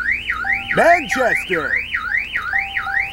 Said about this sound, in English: I'm trying to shut off his alarm!